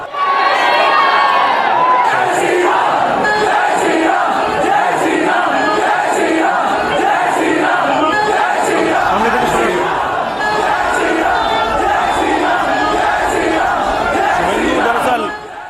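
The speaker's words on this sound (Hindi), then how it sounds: "शुभेंदु आज पुलिस स्टेशन पहुंचे थे तो बाहर समर्थक जय श्री राम का नारा लगा रहे थे" Crowd of supporters shouting a rhythmic chant outside the Lalbazar police station, dense and loud throughout, many voices overlapping in repeated bursts.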